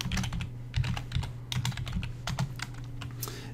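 Steady typing on a computer keyboard while entering data into an Excel 2016 spreadsheet, a close run of quick clicking keystrokes with a low hum underneath and no voices.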